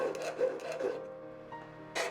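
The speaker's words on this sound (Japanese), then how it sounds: "曲げたことで側面の端が持ち上がっているので削って平らにします" A metal frame for a lapis lazuli pendant having its bent side edge filed flat by hand, with a few quiet rasping strokes, a short pause and then another burst of filing, close and soft.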